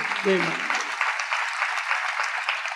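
Audience applause at a Swaminarayan katha, a dense and even patter of many hands clapping that holds steady for a few seconds, with a brief voice at the very start.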